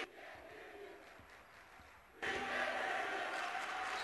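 A big home crowd roars and cheers at a girls' Class 6A state semifinal high-school basketball game in Kansas. A steady arena murmur swells suddenly into loud, sustained cheering.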